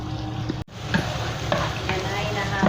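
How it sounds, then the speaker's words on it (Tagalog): Onions stirred in a frying pan with garlic already browned, a steady close sizzle broken by a brief gap, with soft scraping stirs and occasional clinks over the frying. "Halo-haloin hanggang sa maluto ang sibuyas."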